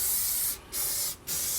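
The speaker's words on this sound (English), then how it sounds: "I'm going to go ahead and start spraying the inside." Aerosol spray can hissing in three long bursts with two brief pauses, coating the inside of a Yoder Frontiersman offset smoker, close and loud with no talk.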